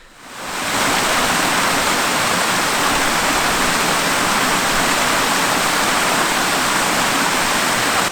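A river rushing through an S-bend near old mine workings, a steady, loud, full-band roar of flowing water that swells in within the first second and holds evenly throughout, with no voices.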